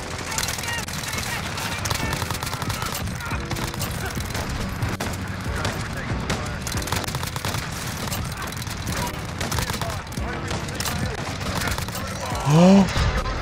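Near-continuous automatic gunfire fills a Call of Duty: Modern Warfare match on the Shoot House map, loud and unbroken, with a rising mechanical whine near the end.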